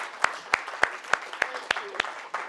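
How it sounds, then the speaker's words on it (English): A small audience at a talk on content creation gives sparse applause, a handful of separate, evenly spaced claps ringing out in a quiet room, with a faint voice in the background. "give her a round of applause, because she was proactive."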